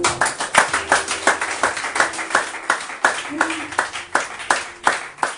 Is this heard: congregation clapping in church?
yes